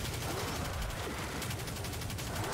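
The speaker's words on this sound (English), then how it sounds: "Okay, someone's using a launcher." A launcher weapon firing in Destiny 2 amid a constant wash of rapid gunfire and explosive noise, dense and loud throughout.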